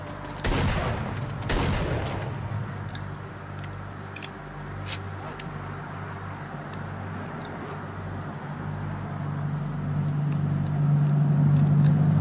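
Gunfire in the video game S.T.A.L.K.E.R. Lost Alpha, with two heavy bursts of shots up close at the start, then scattered single cracks further off over a steady low ambient drone.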